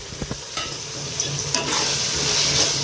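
Chopped onions and Kashmiri red chilli powder sizzle in hot oil for a biryani base, with scraping stirs and soft pan knocks over a steady frying hiss, close and fairly loud, no voices.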